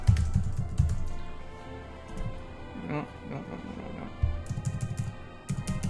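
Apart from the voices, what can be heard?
typing on a computer keyboard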